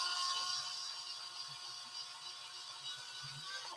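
Steady whine of a power drill running with the bit biting into material, a continuous high mechanical drone that holds level and cuts off abruptly at the end.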